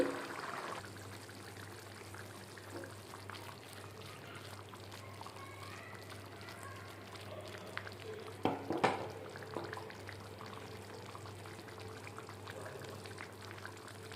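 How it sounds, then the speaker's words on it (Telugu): A pot of small fish curry simmers gently with faint bubbling and soft liquid sounds over a steady low hum, with a few brief clinks midway. "ఇలా ఉడుకుతుంది కదా ఆయిల్ పైకి వచ్చే వరకు ఉడకనివ్వాలి"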